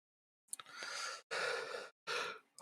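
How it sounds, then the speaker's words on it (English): A person yawns close to the microphone, a long breathy intake followed by drawn-out, airy exhales in three stretched waves with short pauses between them, during a Football Manager 2023 to 2024 gaming session. "I heard that yawn, mister."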